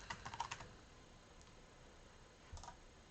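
Quick keystrokes on a computer keyboard as a password is typed, a short cluster of faint, close clicks followed by a pause and a couple more taps, in a quiet room.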